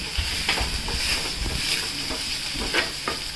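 Onion stirring in a frying pan on a North Karnataka home stove, a steady sizzle with a few scraping stirs at a close, moderate level.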